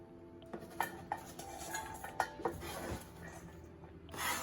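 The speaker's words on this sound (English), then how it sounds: "So let's get this into the mixing bowl." Chopped onion tipped into a mixing bowl, heard as a few light clinks and knocks of utensil against bowl, fairly quiet and close, with no talking.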